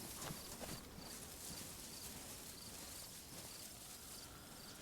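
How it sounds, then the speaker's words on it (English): Infected zombie footsteps in the video game DayZ, a fast, uneven patter of steps over a constant hiss of crickets and wind at low level, without speech. "Just noticed how loud those new infected footsteps are."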